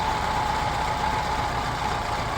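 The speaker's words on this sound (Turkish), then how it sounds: "Rolantiyi tamamen dibe indirmeme rağmen hala hiçbir sarsıntı yok." An LPG-fueled car engine idling at a turned-down idle speed, a steady, even hum with a low rumble, close and unbroken, with no roughness or voices.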